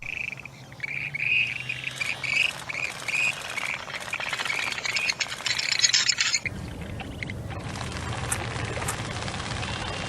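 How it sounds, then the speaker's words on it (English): Western grebes give shrill, repeated squawking calls over a busy, wide outdoor background, loud and fairly close at first. About two-thirds of the way through, the calls give way to a steadier noisy wash. "This is the western grebe, and these birds have a super unique mating dance."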